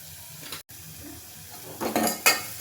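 Aloo paratha potato filling sautéed in a pan, a soft low sizzle under a brief gap, then louder metal spatula scrapes and clinks against the pan near the end, close by with no talking.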